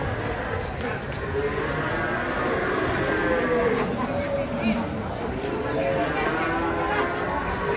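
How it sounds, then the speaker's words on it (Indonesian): Cattle moo repeatedly at a busy Indonesian livestock market, with an agitated Belgian cow among them, their calls sounding close and loud over constant crowd chatter and people talking nearby. "Ini ada sapi ngamuk guys"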